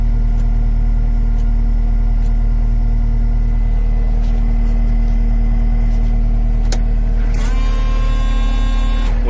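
Caterpillar 259D3 compact track loader from 2020, its diesel engine running steadily at idle with a constant loud low drone and hum, a brief sharp click near the end, then added whine as something engages.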